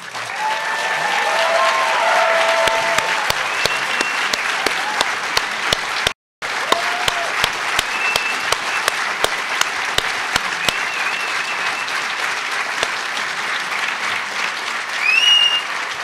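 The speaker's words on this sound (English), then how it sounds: "I know there are some of you who felt you didn't applaud enough for Daniel's amazing speech." Sustained audience applause at a hacker conference as a speaker returns to the stage, dense clapping filling the room, with a brief cut-out partway through and sharp individual claps and faint whoops scattered on top.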